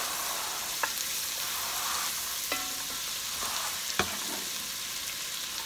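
A generous amount of onions fries in a pan for a turkey pot pie, making a constant even sizzle, with a few sharp clicks and knocks as a utensil stirs them, and no voices.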